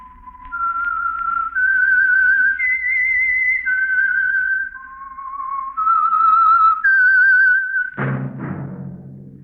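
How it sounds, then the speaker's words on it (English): A clear solo whistled melody, the theme of The Whistler radio mystery program, carried in a steady wavering tune of several sustained notes, ending in a sudden orchestral chord. "That whistle is your signal for the Signal Oil Program, The Whistler."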